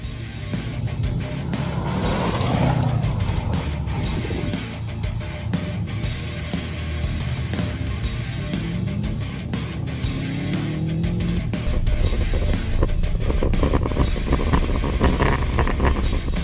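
A Subaru car drives along dirt roads, its engine droning steadily close by with shifting revs, road rumble and wind noise, and no talk.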